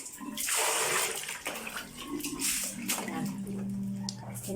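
Tap water gushes and splashes steadily close by as feet are washed in a home bathroom, a continuous rushing stream with faint voices underneath.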